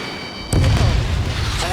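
A missile exploding in the jet combat game Ace Combat 7, a sudden deep boom that rolls on with a rumbling tail.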